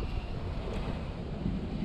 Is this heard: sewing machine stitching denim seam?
no